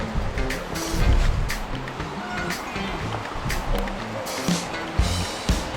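A river flows steadily, a constant rushing wash of water at moderate level near a bike park trail, with no talking over it.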